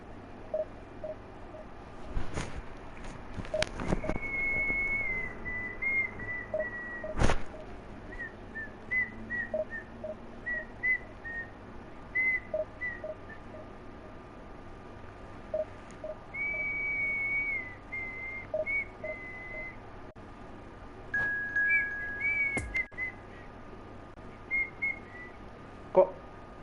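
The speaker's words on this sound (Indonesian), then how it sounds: "siulan gue fals ya?" A person whistles a tune in short wavering phrases, slightly off-pitch, over a steady background hum with a few sharp clicks.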